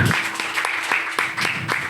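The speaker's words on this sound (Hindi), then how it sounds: "ताली बजाए" Congregation applause during a church sermon, a steady burst of clapping lasting throughout with regular sharper claps standing out, fairly loud and close.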